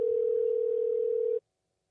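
A telephone ringback tone on an outgoing call, one steady unbroken tone that holds loud and clear for just over a second, then cuts off abruptly into silence.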